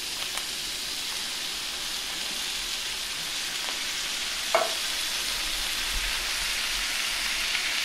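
Diced tomatoes sizzle in a hot pan for a meatball spaghetti sauce: a steady, close frying hiss with a brief bump of stirring or dropping partway through, with no talk.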